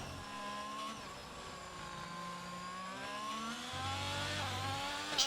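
A Ferrari race car engine in a racing video game at Spa, a steady high-pitched whine rising and falling with gear changes, moderately loud and continuous with no talk.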